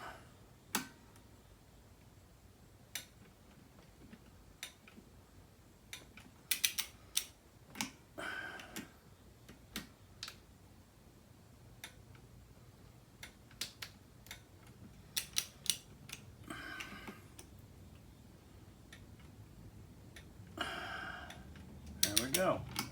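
A torque wrench clicks sharply on the clutch cover bolts of a Suzuki Boulevard motorcycle, with scattered faint ticks and a few louder clustered clicks against a quiet background.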